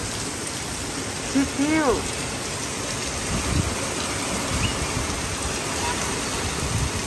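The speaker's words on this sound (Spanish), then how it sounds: "¿Cómo se ve la lluvia tan fuerte?" Heavy rain pours down in a steady, dense wash throughout, with a brief voice speaking over it near the start.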